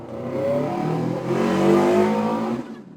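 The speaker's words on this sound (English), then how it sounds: "Don't take that cool-ass motorcycle that I just heard outside." A motorcycle in Paper Mario: The Thousand-Year Door revs loudly outside, a harmonic engine roar that climbs, holds and then dies away.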